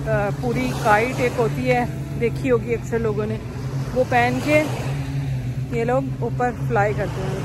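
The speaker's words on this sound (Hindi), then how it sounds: "जैसे ये पीछे बाइक्स की आवाज़ आ रही है" Motorbikes at Kite Beach in Dubai leave a steady low engine drone in the background while someone talks continuously over it.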